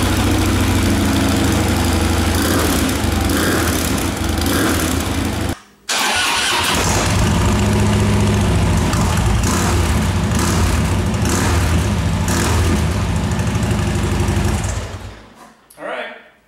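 A motorcycle on its stock exhaust, before a Vance & Hines slip-on is fitted, starts up and settles into a loud, steady idle, with a brief cutout near the start and the sound tapering off at the end.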